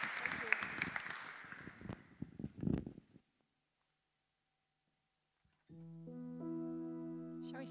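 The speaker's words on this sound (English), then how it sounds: "could we maybe just give them a round of applause for battering on," An audience at a church prayer-day session claps in a dense burst of applause that fades out after about three seconds, followed by silence and then sustained guitar notes.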